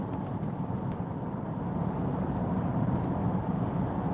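A Mercedes GLC 400 pulls out to overtake on an open road, its engine and tyre roar a steady, close low drone mixed with wind buffeting, with no speech over it.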